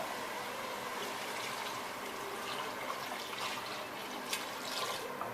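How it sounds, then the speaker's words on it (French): Water poured into a cooking pot of lamb shanks with dried fruit, a soft continuous splashing gurgle with a few brief clinks; faint and fairly close, no talk. "donc je mets de l'eau"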